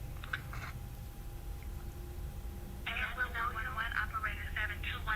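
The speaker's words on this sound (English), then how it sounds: "Oh no, that's the ringtone." A phone ringtone plays at a low volume, starting with a short burst and then returning as a longer warbling, buzzy ring through the second half of the clip, over steady low background hum.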